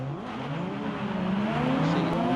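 Silhouette race cars in the Andros Trophy ice race roar past, engines rising in pitch as they accelerate, a dense mix of several motors close and loud, with faint commentary underneath.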